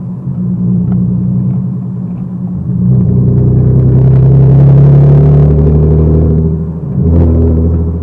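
A Hyundai Genesis sports car drives with a loud, close, deep engine rumble that swells and rises in pitch as it accelerates, eases briefly, then builds again, with no voices over it.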